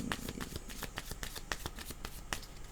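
Playing cards are riffled and shuffled in quick, steady bursts of crisp flicks, close and moderately loud, with no talking.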